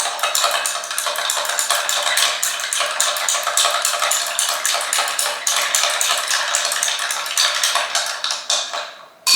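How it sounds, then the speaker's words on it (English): Ice rattling and clinking steadily in a mixing glass as a Fancy Free cocktail, an Old Fashioned variation, is stirred fast for about twenty seconds, a continuous bright jingle heard up close. "You want to stir it nice and fast, but not too rough."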